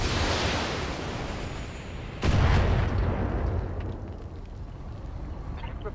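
A vehicle blown apart by weapons fire in the BattleTech strategy game: one sudden heavy blast stands out from dense, constant battle rumble, followed by a long roaring decay.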